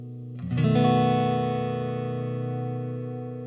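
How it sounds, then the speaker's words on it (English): A sustained chord through a plate reverb with shimmer effect blooms with lush, shimmering reverb tail, bright upper harmonics ringing on and slowly fading without any talk. "On the Reverb, we've got the plate with the gorgeous shimmer."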